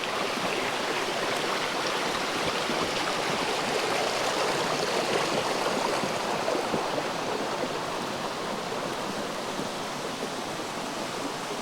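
Mill Prong Creek flowing beneath a log crossing on a wooded trail, a steady, full rush of water that holds even and fairly loud throughout, with no voices.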